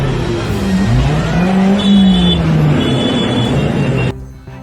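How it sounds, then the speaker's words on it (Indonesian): A white minibus revs its exhaust hard on the road in one sustained, loud, rising and falling engine roar, which cuts off sharply near the end. "mobil minibus putih sengaja adu banteng dan menggeber knalpotnya"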